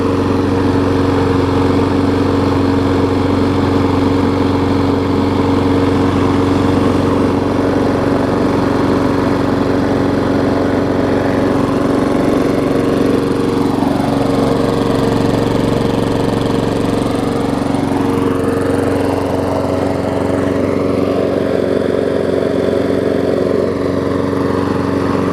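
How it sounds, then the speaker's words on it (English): A Craftsman lawn mower, a dumpster find with a replaced carburetor diaphragm, runs steadily at a loud, close idle, its engine a constant throaty drone with a slight rise and fall in pitch and no voices. "Running great. It's a nice little quiet mower too."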